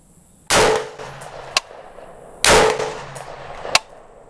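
Two sharp rifle shots from a Colt 605 Dissipator ring out about two seconds apart outdoors, each followed by a brief echo and a fainter metallic ping of a struck target.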